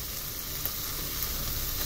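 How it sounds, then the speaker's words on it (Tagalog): Fish sauce sizzles steadily in a pan of sautéed mung beans, a dense, even hiss close up with no voices. "Maglagay tayo ng konting patis"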